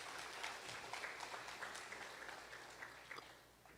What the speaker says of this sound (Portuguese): Aplaude ele por isso em nome de Jesus.